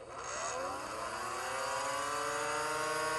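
Nerf Mega Motostryke blaster flywheels spin up with a loud, rising motorized whine, holding steady throughout with no voices.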